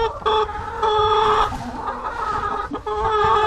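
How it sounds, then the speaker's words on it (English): A hen clucks loudly and close in a run of short, nasal calls, several rising squawks coming in quick succession with no talking. "That's a chicken."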